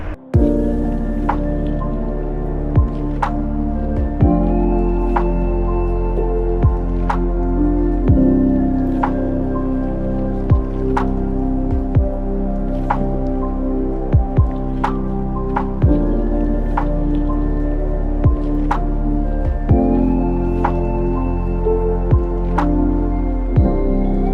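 Rain drips at a rest stop on a motorcycle tour through Central Java, with sharp, evenly spaced drops landing over a steady tonal hum for the whole stretch.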